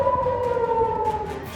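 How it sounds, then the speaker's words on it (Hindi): Air raid sirens wail across Israel, two steady sustained tones holding level and loud without break, no voices over them. "इसराइल में बड़े पैमाने पर सायरन बज उठे।"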